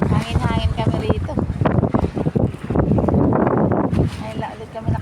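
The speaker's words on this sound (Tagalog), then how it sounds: "Hangin-hangin kami rito." Seaside wind buffets the microphone in a loud, continuous roar during high tide, with a boat nearby, while people talk over it throughout.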